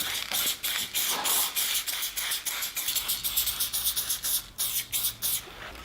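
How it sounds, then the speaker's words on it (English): A spray paint can fitted with a fat cap, level 5, is held upside down and fired in a rapid series of short, loud hissing bursts at close range. "turn the bottle upside down and spray all the paint out of the cap when you're done"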